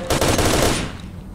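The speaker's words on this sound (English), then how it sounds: "So much ammo, so much useless shooting for no reason at all." A short, loud automatic burst of rapid gunfire from the shooter game S.T.A.L.K.E.R.: Shadow of Chernobyl, with shots fired in quick succession before the sound trails off.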